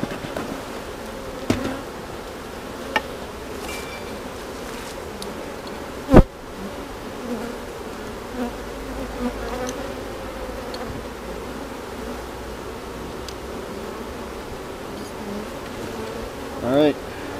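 Honeybees drone steadily at a hive with a blocked entrance, a continuous close buzzing swarm with a few sharp knocks and brief clicks scattered through it.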